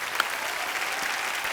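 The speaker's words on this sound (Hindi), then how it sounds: "इसके लिए जोरदार तालियां बनती हैं" A studio audience at a comedy show breaks into dense, steady applause that holds at an even level for a moment, fairly soft and heard alone without talking.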